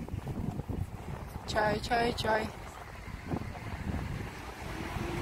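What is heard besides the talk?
wind blowing outdoors by the sea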